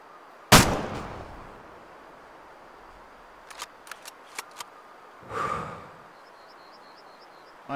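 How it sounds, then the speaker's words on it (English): A single sharp rifle shot at a red deer in the hunting game Way of the Hunter, loud and close, followed by quiet ambience, a few faint clicks and a soft rustle. "I hope that was a good shot"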